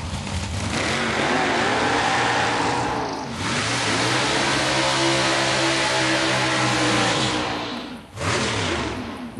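A mini door truck's engine roars and revs at a drag strip, loud and close, holding a steady harmonic drone with short dips in pitch as it shifts or lifts off the throttle.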